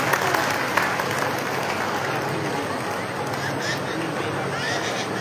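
A large open-air crowd applauds a folk singer at a Buddhist Dhamma gathering in Sambhajinagar, a dense steady clapping roar with a few sharper claps early on, voices mixed in.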